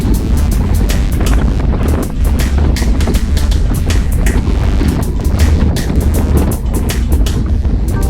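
On an open road outside town, cool overcast wind roars constantly across a moving cyclist's microphone in loud, rough gusts that bury any other sound.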